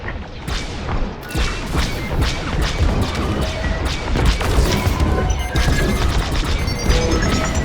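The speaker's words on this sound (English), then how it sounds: "Got an enemy missile. Just a scrape." A missile strike on a starfighter in Star Wars Squadrons: a loud crashing impact amid continuous dense combat rumble, with sharp bangs and whooshing layered over steady roar, no voices.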